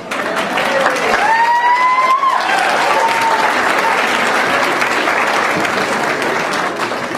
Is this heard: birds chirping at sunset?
no